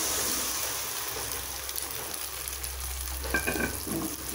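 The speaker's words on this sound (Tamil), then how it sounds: "இந்த தக்காளி நல்லா வதங்கணும்" Tomatoes and onions sauté in hot oil for an egg gravy, giving a steady close sizzle and frying hiss throughout, with a brief scrape of stirring near the end.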